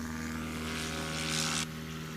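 A propeller-driven STOL airplane climbs away during a swamp takeoff competition in Jennings, Louisiana, its engine droning steadily and swelling briefly before dropping off, faint and somewhat distant.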